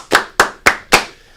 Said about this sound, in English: 5 claps